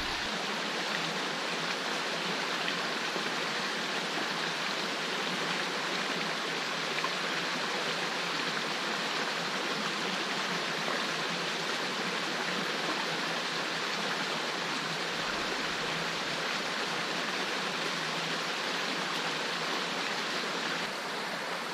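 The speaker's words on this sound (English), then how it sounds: "we're pretty sure we do hear a little bit of water running over" Steady broadband rush of creek water running over rocks along a wooded trail, continuous and fairly loud with no voices, a close constant wash throughout.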